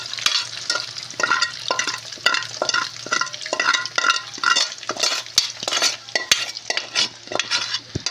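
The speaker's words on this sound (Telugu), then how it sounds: "నూనె అయితే హీట్ ఎక్కింది. ఇప్పుడైతే ముక్కలు అయితే వేసేసిన." Chicken pieces fry in hot oil for pickle with a loud, continuous sizzle, broken by rapid, repeated clattering stirs of a spatula against the pan, close up and with no speech.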